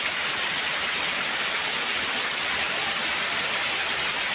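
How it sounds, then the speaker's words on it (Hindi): Heavy rain pours down in a loud, steady, unbroken hiss that stays even from start to finish, with no voices over it. "तो आप लोग देख सकते हो इतनी तेज़ बारिश हो रही है हमारे यहाँ"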